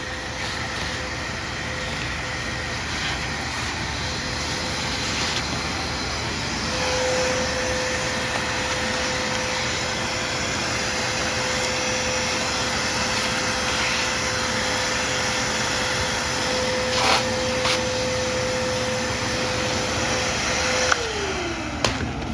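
A shop vac runs continuously, vacuuming a weathered old 1990 Bianchi Ocelot bicycle that had been left outside; a loud, steady roaring hum with a constant whine, its pitch dropping briefly near the end.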